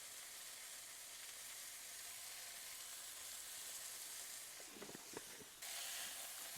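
Portobello mushroom caps fry in a pan with a steady, even sizzling hiss throughout, quiet and close, with a brief shift in the frying sound near the end, no talking.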